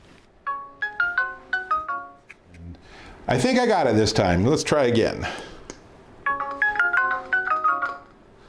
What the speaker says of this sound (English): push the doorbell to see if the base station rings